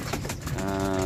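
Pigeons coo at a racing pigeon club in Cabanatuan, Nueva Ecija, a close, steady, throaty rolling coo running through the whole brief moment.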